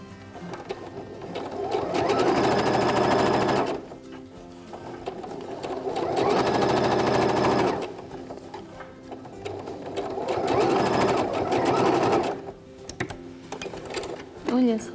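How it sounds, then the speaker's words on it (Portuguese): A sewing machine runs a straight stitch to close a seam in three long steady bursts of fast mechanical whirring, each lasting several seconds, with quieter pauses between them, close and loud over faint room sound. "É só fechar aqui a costura."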